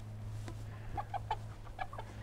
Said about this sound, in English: These are Cornish Rock chickens, and these are 6 weeks old.